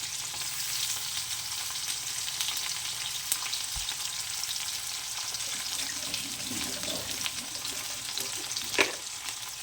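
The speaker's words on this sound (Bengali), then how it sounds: "যাতে এই পেঁয়াজটা আমার ভাজা হতে হতে ভাজার সঙ্গে গলে যায়" Finely chopped onion frying in oil in a pan for a fish curry with mustard, giving a steady close sizzle with faint watery clatter and one brief knock, no talking.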